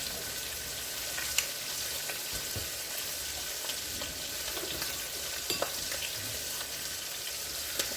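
Pork chops sizzling and simmering in a frying pan while cooking German breakfast, a steady bright crackle with occasional pops and stirring clinks, close up, without talk.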